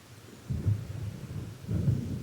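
Low, rumbling thunder from an approaching storm in the video game Alan Wake rolls in two heavy swells over a soft rain-like hiss, with no voices.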